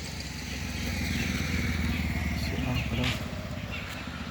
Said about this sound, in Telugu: ఒక బైక్ వస్తుంది చిన్నగా కనిపిస్తుంది